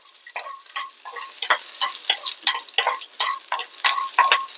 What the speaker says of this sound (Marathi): आणि शेंगदाणे. हे लगेच होतं भाजून.